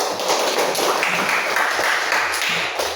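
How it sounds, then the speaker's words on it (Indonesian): Brief, dense clapping from a group gathered for a teacher training session in a classroom-like room, a continuous patter filling the short moment. "Tepuk tangan kita semua."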